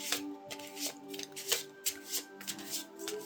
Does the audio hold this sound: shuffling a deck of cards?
yes